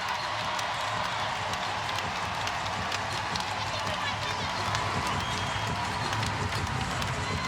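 A WNBA crowd in the arena at an Indiana Fever versus Seattle Storm game sends up a loud, continuous roar with scattered clapping, steady throughout, while a commentator talks over it.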